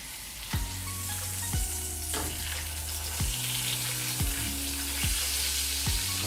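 Smoked pork belly for a burger sizzling in a pan: continuous close frying hiss with soft crackles under repeating background music, a few louder spatters along the way.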